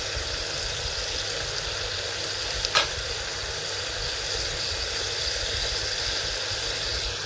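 Carrots, celery and other vegetables frying in a pan for an Algerian dish, a loud, steady broadband sizzle throughout with one brief sharp tap partway through.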